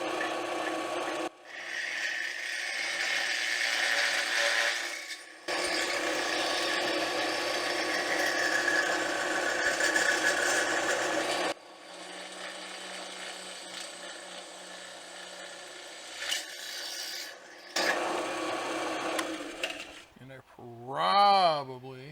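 A drill cuts through-holes in steel lubricated with cutting fluid, heard as loud, sustained grinding stretches broken by short pauses, and a person talks over parts of it.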